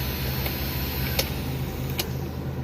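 Engine cooling fan of an idling 1995 Daihatsu Zebra Espass 1300cc, a steady low hum and whir with a few faint ticks, constant and moderately quiet with no voices.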